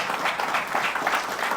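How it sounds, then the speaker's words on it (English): A short burst of audience applause for guest speakers at a business event, steady clapping filling the moment. "let's just give a big round of applause for our guest speakers"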